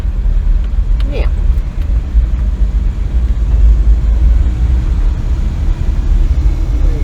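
A vehicle engine rumbles low and steady after a shift into third gear, a close continuous drone with a brief higher whine early on.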